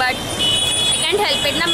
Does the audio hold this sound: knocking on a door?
no